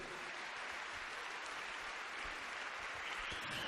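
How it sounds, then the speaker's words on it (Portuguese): An audience at a church gathering in Brazil claps loudly and steadily, a dense, continuous wash of applause holding an even level throughout with no voices standing out. "Quem pode aplaudir forte a Jesus?"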